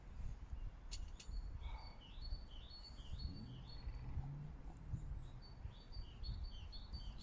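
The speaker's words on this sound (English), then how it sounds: "It's nice to listen to the birds" Several small birds chirp and tweet repeatedly in woodland beside a natural bender shelter, short bright calls scattered throughout over a steady low outdoor rumble.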